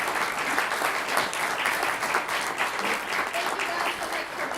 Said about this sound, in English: it sounds like you just gave them all a round of applause